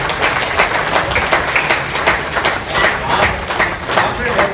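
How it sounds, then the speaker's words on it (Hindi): An audience at a Brahma Kumaris World Blood Donor Day program in 2024 claps loudly. The many hands produce fairly steady, pulsing applause, with voices heard underneath. "ताली बजाने है"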